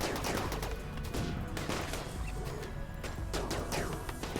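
Gunfire from robots and raiders in a RimWorld battle, including auto pistol, charge rifle and heavy SMG fire, as a dense, steady barrage of rapid shots with bird-like clucking sounds mixed in.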